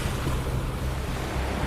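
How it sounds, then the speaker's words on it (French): Ocean waves break with a dense, continuous roar of surf that fills the whole moment, loud and close, with no voices. "Regarde là-bas les vagues qui se brisent."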